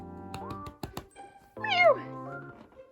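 A house cat meows several times in a small indoor room, one long drawn-out call rising then falling, with shorter mews and thumps around it; a person speaks nearby between the calls.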